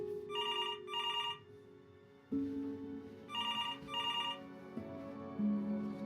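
A telephone rings in the video game Before Your Eyes, two pairs of bright electronic ring bursts over a low sustained musical drone that shifts pitch, no talking.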